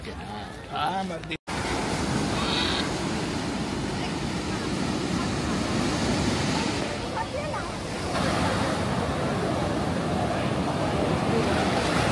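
Surf rolls in at a beach near Puri, a loud, steady wash of breaking waves mixed with wind buffeting the microphone, after a brief moment of speech at the start.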